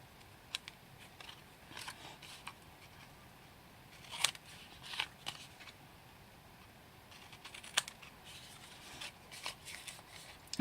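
Scissors cutting a wedge out of card along straight score lines while making a small box, giving quiet, scattered snips and paper rustles spread across the span, with no talking.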